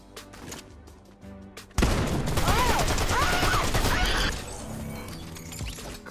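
A video game SMG fires a sustained rapid burst of loud gunfire for about two and a half seconds after a quieter opening. Softer game sounds follow.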